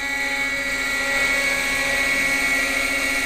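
A Quickie .18 nitro RC helicopter engine runs at a steady half throttle, a loud, continuous high buzzing whine with an even tone throughout and no voices.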